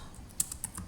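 Keys tap on a computer keyboard in a brief run of about four quick, crisp keystrokes, close and clear against a low background hum.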